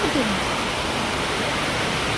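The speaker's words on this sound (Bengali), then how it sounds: "কিন্তু দেখো কত বৃষ্টি পড়ছে" Heavy rain pours down in a dense, even roar of broadband noise that stays steady from start to finish.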